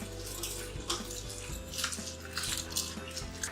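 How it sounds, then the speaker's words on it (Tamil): Water splashes and gurgles steadily as washed rice is poured into a pot of boiling water, with faint clinks, close and fairly loud. "தண்ணி இப்போ நல்லா கொதிச்சிருச்சு. கழுவி வச்ச ரைஸை சேர்த்துக்கிறேன்."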